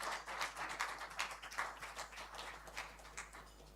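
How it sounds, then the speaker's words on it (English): Faint, distant applause for Uganda Airlines at an airline route announcement ceremony: many hands clapping in a dense, continuous patter with no voices over it. "A round of applause."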